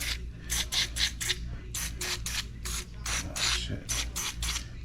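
Short bursts of penetrating oil spray hiss in quick repeated pulses over a steady low rumble, with a brief muttered voice, aimed at seized brake parts on a Nissan Armada.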